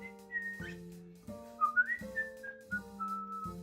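A person whistles a melody to a pet parrot, sliding between notes in short phrases, close and clear over a steady low tone, with no talking.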